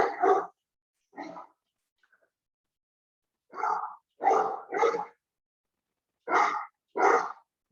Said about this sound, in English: Enjoy the nice peaceful sound of my dogs barking for food.